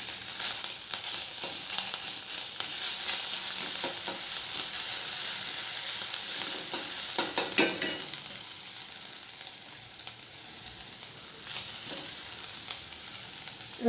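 Ginger garlic paste sizzles and crackles in hot oil in a frying pan, with occasional stirring scrapes over a steady hiss.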